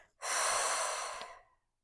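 One deep diaphragmatic exhale, a long, soft, close breath of air that swells quickly and fades out over about a second and a half.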